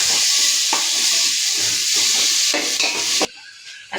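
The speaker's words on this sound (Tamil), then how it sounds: "தக்காளி, இஞ்சி பூண்டு எல்லாத்தையும் போட்டு வதக்கணும்." Tomato, ginger and garlic sauté loudly in a pan for quail biryani, a dense close sizzle with stirring scrapes that drops off sharply near the end; no talking.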